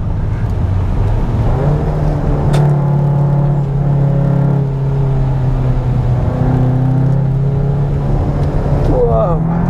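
The big, heavy VW Arteon R Shooting Brake is pushed hard through corners, its engine rumbling loudly and climbing then easing in pitch, with a steady whir of road and wind noise.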